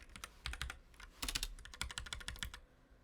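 Quick bursts of computer keyboard typing during a computer science lecture on operator overloading: rapid, fairly quiet clicking keystrokes in clustered runs, with no talking.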